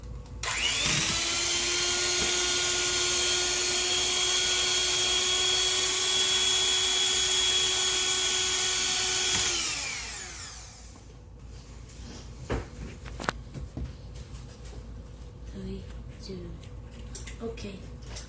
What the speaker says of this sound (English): And now I'll try to use the whisker without it getting spilled. It is mixing alright.